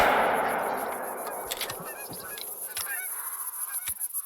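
A flock of geese honking in theHunter Call of the Wild hunting game, loud at first and fading, then several sharp gunshots crack out amid continued honking.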